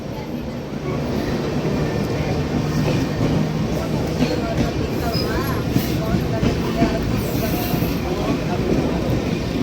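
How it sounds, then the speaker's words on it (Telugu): A Kochuveli–Mysuru express train rolls past on the adjacent track as a steady, loud rumble of wheels and carriages throughout, heard from inside another moving train with some background chatter. "మనకి అటు సైడ్ ఇంకో ట్రైన్ వస్తుంది, తిరువనంతపురం నార్త్ నుంచి మైసూరు వెళ్ళే ఎక్స్ప్రెస్ ట్రైను."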